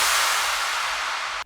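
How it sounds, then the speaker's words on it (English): A broadband whoosh transition effect from an FL Studio beat, a steady bright noise sweep that holds loud for about a second and a half before cutting off abruptly, with no voices. "and also this transition here"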